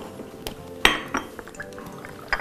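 Metal forks and spoons clink together in a few bright, separate strikes, close by and fairly loud, with a faint liquid trickle between them.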